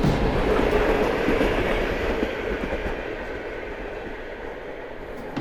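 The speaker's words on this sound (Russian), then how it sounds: "Довольно массовая электричка, которых уже построено больше 200 штук." An EP2D electric commuter train rolls past close by, a loud rumbling roar with rhythmic wheel clatter that slowly fades as it moves away.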